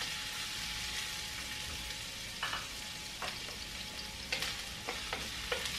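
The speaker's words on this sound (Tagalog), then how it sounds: "Initin ng mantika. Lagay natin una ang luya." Minced ginger fries in hot oil with a steady, dense sizzle, punctuated by several sharper stirring scrapes near the end and no talking.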